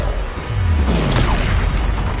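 A Bombarda spell explodes in the video game Hogwarts Legacy with a loud, booming blast. The roar is sustained, broad and rumbling, with low tones sweeping beneath it for the full couple of seconds, and no talk is heard.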